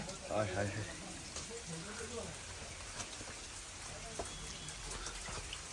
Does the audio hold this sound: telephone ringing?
no